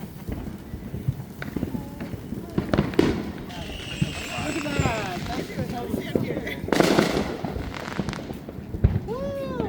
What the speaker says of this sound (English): Brian, get it away from the fireworks.